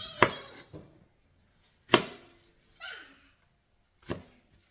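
A knife chops vegetables on a cutting board for salmon-head sinigang: four sharp, close, separate strikes spaced about a second apart, with quiet pauses between.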